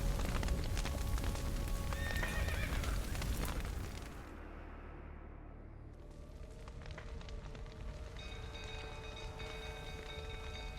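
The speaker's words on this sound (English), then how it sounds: "The horses!" Horses in The Witcher 3 video game, with whinnies and hoof clatter amid a roaring burning-barn fire and crackling flames, loud at first then dropping to a steadier rumble.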